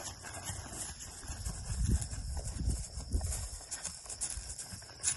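A western horse's hooves clip-clop in a steady, even jog on the ground, close and moderately loud with a little background noise and no talking.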